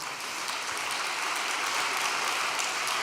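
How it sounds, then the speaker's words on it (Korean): A congregation at a special overnight devotion gathering gives steady applause, many hands clapping in a dense, even wash throughout. "박수 한번 보내주시기 바랍니다"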